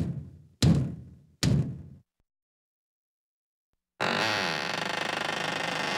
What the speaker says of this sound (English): he walked to the front door and he knocked on the front door.